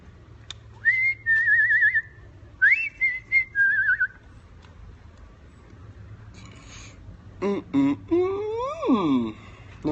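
A person whistles in a car, several short wavering tuneful phrases followed by rising and falling sliding notes, clear and close over a quiet low hum.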